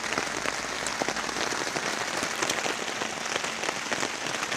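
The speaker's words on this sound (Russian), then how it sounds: "Дождь барабанит с утра." Steady rain drums densely on a surface nearby, a continuous hiss of many drops with no voices.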